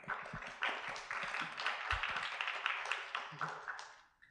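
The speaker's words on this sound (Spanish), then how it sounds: "Les pido un aplauso para ambos" Clapping from the audience at a public conversation with two playwrights, a modest scattered round of hands that swells and then tapers off near the end, fairly quiet and a little distant.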